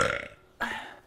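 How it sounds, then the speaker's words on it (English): Two short, loud burps come in quick succession, the second one starting just after a brief pause. "I can burp the alphabet"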